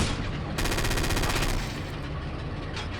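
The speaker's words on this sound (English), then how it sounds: "there are also some light tanks like the Panzer II, and it has a fast-firing gun" In the video game Forgotten Hope 2, a Panzer II light tank's fast-firing gun lets off a rapid burst of close, loud shots, then the burst stops and a rumbling background continues.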